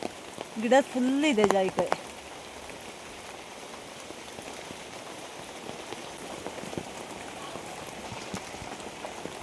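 Steady rain pours over a nutmeg plantation, a continuous even hiss of drops on leaves and ground. Someone talks briefly at the start, then the rain carries on alone at a moderate level.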